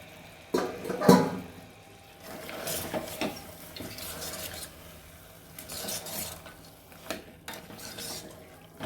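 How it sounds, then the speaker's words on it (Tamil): Mutton bones are sautéed with masala in a pan for bone soup: repeated scraping and rasping strokes of a spoon against metal, uneven in rhythm and moderately quiet, with soft clatter between strokes. "நம்ம கறி போட்டு வதக்கிறப்ப, இந்த எலும்பு போட்டு வதக்கிறப்ப மிச்சம் இதுவும் வதங்கிடும்"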